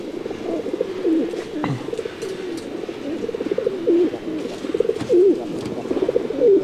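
Pigeons coo repeatedly at a large pigeon exhibition in Leipzig, soft throaty calls overlapping at close range against a busy indoor hall murmur, with no talk.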